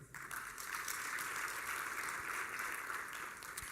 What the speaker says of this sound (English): A hand clap for Zambia.